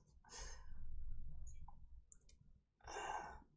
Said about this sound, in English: People actually forming an opinion in the board by listening to Simon type